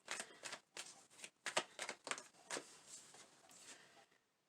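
A deck of tarot cards shuffled by hand at close range, a quick run of soft papery riffles and flicks in uneven bursts, fairly quiet and fading out at the end, with no voice over it.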